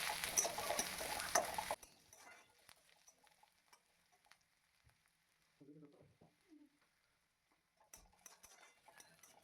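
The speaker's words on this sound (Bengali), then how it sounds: "আমি পেঁয়াজ আর রসুন কুচিটা একসঙ্গে ভালোভাবে ভেজে নেব" Chopped onion and garlic fry in hot mustard oil with a loud sizzle for about two seconds, then fall quiet, leaving faint stirring clinks and a brief soft voice.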